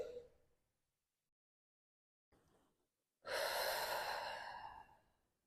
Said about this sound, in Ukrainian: Видих, вдих, видих, вдих.